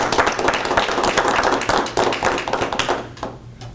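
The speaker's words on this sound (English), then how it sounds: "I'd like to give a round of applause." Scattered clapping from a small audience at a school board meeting, a few distinct hand claps and taps close by, thinning out and trailing off near the end.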